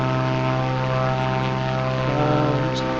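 Propeller airplane engine in a flight video game during approach and landing at an airport, a loud steady droning hum with strong harmonic tones filling the whole stretch, no talk.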